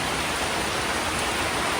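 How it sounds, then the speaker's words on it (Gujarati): Heavy first monsoon downpour during a waterfall outing, a steady dense hiss of rain and rushing water filling the air evenly and loudly throughout, with no pauses and no voices. "પહેલો જ વરસાદ એટલો બધો આવ્યો"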